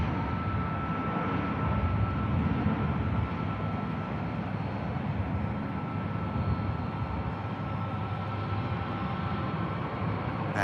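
An aircraft departing Manchester Airport on a short hop to the Isle of Man, heard as a steady, broad, continuous roar that holds at an even, fairly loud level throughout with no voices.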